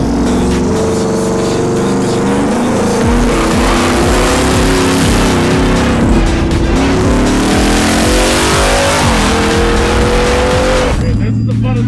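Twin-turbo V8 Ford Raptor mini pickup making 860 horsepower, accelerating at full throttle with a loud, dense engine roar rising through the gears, tires squealing, close and continuous before dropping off abruptly at the end.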